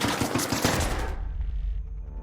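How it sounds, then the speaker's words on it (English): Rapid video-game gunfire aimed at the player: a dense, loud burst of overlapping shots for about a second, then a fading ringing tail. "Did he just shoot me?"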